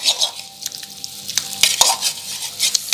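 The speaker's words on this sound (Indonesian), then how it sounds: "Kalau sudah mendidih, kita masukkan kerupuk yang udah direndam, kita masukkan kerupuknya." Soaked seblak crackers stirred in boiling spicy chili broth, a steady bubbling sizzle with scraping utensil strokes and clinks against the pot, close and continuous with no talking.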